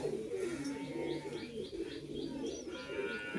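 High-flying pigeons, including a golden-eyed male, coo softly in a loft, with scattered chirps over a low background hum.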